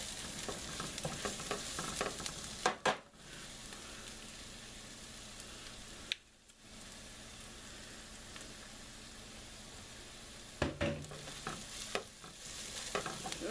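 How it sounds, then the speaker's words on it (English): Garlic sizzles in a hot pan, a close, steady hiss of frying that continues with a few brief stirring clatters and short gaps. "You want to add the garlic in and only let it cook for about a minute."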